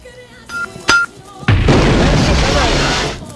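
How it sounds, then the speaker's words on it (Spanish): A booming bomb explosion sound effect erupts partway through, a loud, deep blast with a rumbling tail lasting nearly two seconds, preceded by a few brief voice fragments and a sharp click. "tírame bomba para decir esto"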